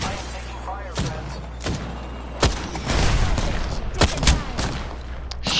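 Gunfire in Apex Legends, several sharp shots and short bursts cracking at irregular intervals over game ambience, fairly loud, with a player's voice talking during the fire.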